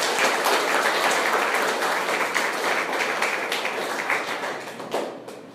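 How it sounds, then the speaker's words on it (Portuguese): A church congregation claps together in sustained, dense applause that holds steady and then begins to thin toward the end. "Vamos dar uma salva de palmas para o Senhor."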